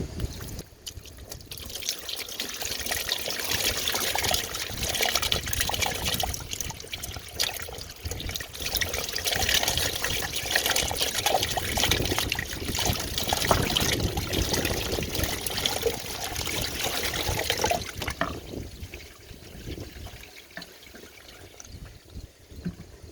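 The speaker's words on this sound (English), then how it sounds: "I'm going to dump it down the windshield, and that should run down into that compartment and run out the drain." Water poured down the windshield of a 2005-2009 Ford Mustang trickles and splashes as it drains through the cowl drain, a continuous close pouring and dribbling that fades out near the end.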